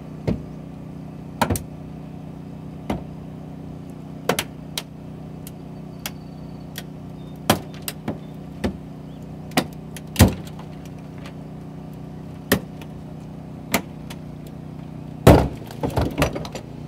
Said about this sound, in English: The aggressive tip design of the Homatro spreaders really allows us to get a very good bite